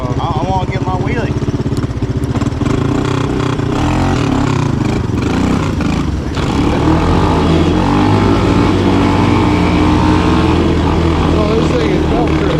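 A belt-driven Honda ATC200S or Tao Motors Mudhawk 200 ATV engine drones loudly and continuously while riding, with a revving pitch and a brief dip midway, and people talk over it.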